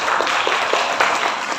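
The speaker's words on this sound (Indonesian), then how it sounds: "Kita berikan tepuk tangan yang meriah untuk Mas Gofur" An audience at an entrepreneurship training session in Rembang, led by the head of Blora's disability association, claps for Mas Gofur: dense, steady applause from many hands fills the room throughout.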